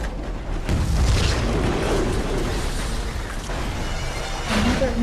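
An explosion from a bombing scene in the James Bond film Skyfall, with a sustained heavy rumbling roar and debris noise that stays loud throughout and has no clear gaps.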